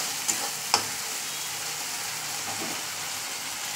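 Cumin masala fries in a pan for a Bengali fish curry while being stirred repeatedly, making a steady sizzle with two sharp clinks of the spoon early on.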